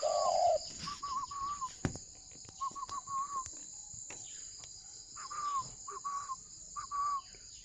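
Male dove at a breeding farm cooing: a series of soft, rhythmic coos repeated in short groups, close by, over a steady background of insects chirping.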